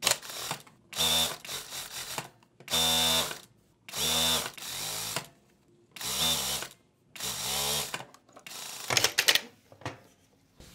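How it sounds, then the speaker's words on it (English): Home sewing machine stitching two rows of scrap fabric together right sides facing along a quarter-inch seam for a patchwork stole, heard as several separate bursts of rapid mechanical whirring, close and clear, with short pauses between runs. "join both of them, placing it right on right and sewing at one of the edges at quarter inch seam"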